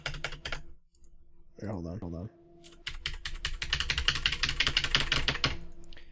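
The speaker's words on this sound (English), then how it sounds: "if I start pounding my keyboard," Fast, loud keyboard typing and key pounding on a computer keyboard picked up by a desktop voice-chat mic, dense clattering bursts with a short spoken phrase in the middle.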